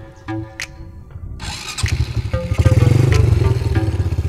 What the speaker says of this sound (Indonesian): kita dengarkan suara dari si knalpotnya sendiri